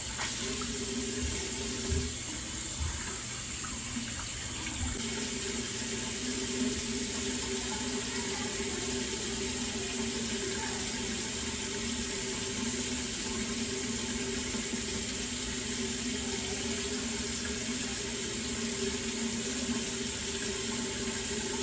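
Hot water pours steadily from a household tap, a constant hissing rush running unbroken for the whole stretch with no voices.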